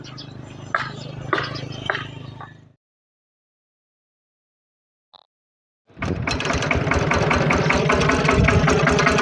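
Harvesting machinery engine running, steady and loud, resuming after a silent gap, with an earlier stretch of rumbling engine noise mixed with knocks.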